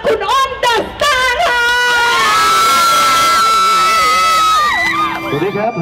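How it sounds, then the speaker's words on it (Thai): At a car show event at MotorExpo 2015, a crowd cheers loudly, with high excited shouts and whoops rising and falling for several seconds. "เขาจะมาขอเสียงปรบมือดังๆต้อนรับ"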